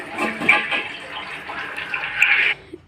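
Water splashes steadily into a pot of goat tripe (boti) curry for about two and a half seconds, a close, continuous pour that stops abruptly.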